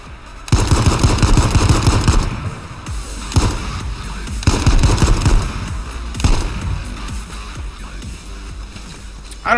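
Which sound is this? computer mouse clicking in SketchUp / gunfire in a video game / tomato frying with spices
gunfire in a video game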